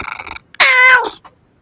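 A pet cat lets out a single loud, close meow, a drawn-out tonal call lasting about half a second, with brief faint sounds before and after it.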